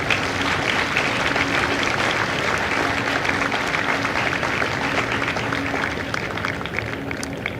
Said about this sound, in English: Ladies and gentlemen, join me in a round of applause for the family of the officers and drill instructors of Company M.